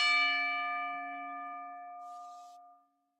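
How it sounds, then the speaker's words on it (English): A wrestling match bell rings once at the end of a referee's three count, a single bright clang whose tone rings out and decays over about three seconds, with no talk over it. "gonna ring that damn bell."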